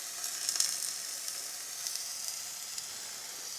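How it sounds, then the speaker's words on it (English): Steady frying sizzle from chicken in a hot pan, a continuous bright hiss with small crackles and pops, close up, no voices. "Sizzling that chicken meat."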